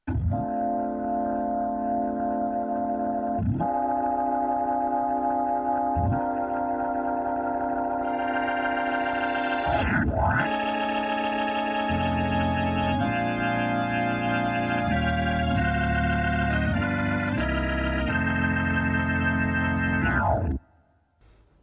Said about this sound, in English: here's an organ preset so we can check out the organ sounds.